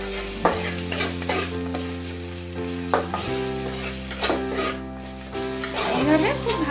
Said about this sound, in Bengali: এইভাবে খুব ভালো করে আমি নেড়ে নেব।